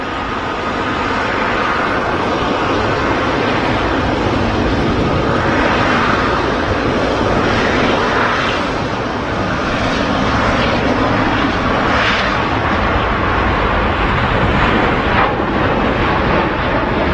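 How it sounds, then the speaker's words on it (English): A Cathay Pacific Airbus A350-1000 rolling for takeoff at Manchester Airport, its engines building to a loud, sustained roar that stays strong and slowly shifts in tone over the whole stretch. "Now rolling is the Cathay Pacific A350 1000."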